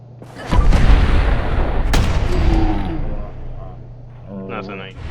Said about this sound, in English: I chucked a plasma grenade in there and it just melted this one guy.